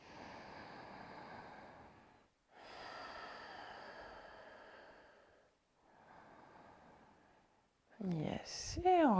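Deep breathing during a hatha yoga flow, with three long, slow, airy breaths heard close up, separated by short pauses, followed by a brief sharper snort-like sound at the end.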